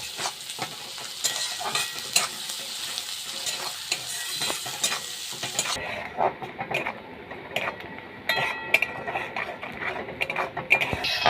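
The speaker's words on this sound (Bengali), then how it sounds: "এইভাবে পেঁয়াজটাকে আমি ভালো করে ভেজে নেব" Onion fries in a pan for a rui posto dish, giving a steady sizzle broken by repeated scraping strokes of a spatula stirring it. It sounds close, with no talking.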